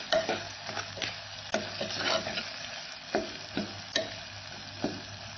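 Curry leaves crackle and sizzle in hot oil for a tempering, with a continuous frying hiss broken by repeated sharp spatula clinks and scrapes as the pan is stirred; no voices.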